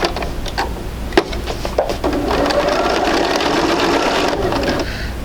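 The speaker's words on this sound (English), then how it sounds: "we're going to go ahead and sew this one" A sewing machine stitches a quilt block for an intermediate sampler quilt, starting with a few short bursts and clicks, then settling into a steady, close, continuous whir for several seconds.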